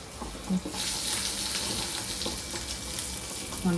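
Sardines fry in a pan with a continuous bright, crackling sizzle, close and fairly loud, with a couple of soft knocks of a utensil.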